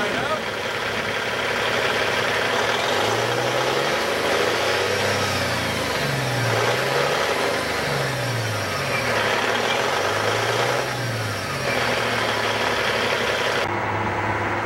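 Caterpillar C15 single-turbo diesel rated at 475 horsepower idling in a Peterbilt 387 semi truck, a steady, loud, close rumble with a slowly wavering low throb that runs unbroken throughout.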